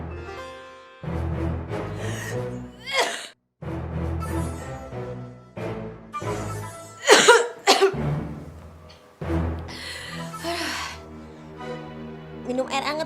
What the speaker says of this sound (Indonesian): Gak tahu tiba-tiba batuk.